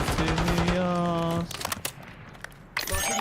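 Bursts of gunfire in the Warzone video game follow a sustained tonal, voice-like sound, then come as scattered cracks of varying loudness before a final loud flurry.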